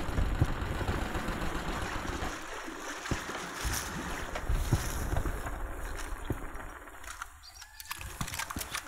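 A boat moving across water in the video game Battlefield Bad Company 2, with a steady engine drone and wash of water and wind running continuously throughout.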